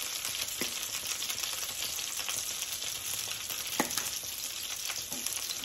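Chicken and mushrooms frying in a pan, a steady sizzle throughout with occasional scrapes and clicks of a utensil stirring the pieces, close and fairly quiet with no talking.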